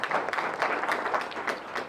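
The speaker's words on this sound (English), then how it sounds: "A round of applause to Karen and the team." A conference audience at a climate change strategy launch in Kenya applauds, steady clapping from many hands throughout the short moment.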